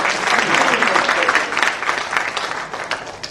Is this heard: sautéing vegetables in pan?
no